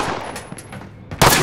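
Gunfire in a Call of Duty Modern Warfare battle royale match, with a few faint distant pops followed by a loud, sudden close burst at the end.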